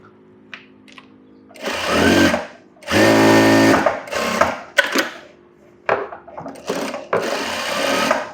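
A sewing machine runs round stitching on a blouse's designer sleeve. It whirs in several bursts of one to two seconds each, separated by short pauses and small clicks, loud and close with no talk.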